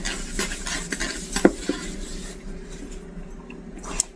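Chicken being stirred with ground black pepper for Korean dakgalbi made with gochujang, with scraping spoon strokes and a few clinks against the pan, moderately close, with no talk.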